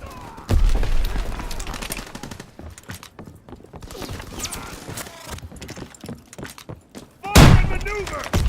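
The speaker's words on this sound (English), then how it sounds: "Throwing grenade! Tossing sticky!" Battle in Call of Duty: World War II with grenade blasts: a heavy explosion early, then scattered gunfire and combat noise under shouted voices, and another loud booming blast near the end.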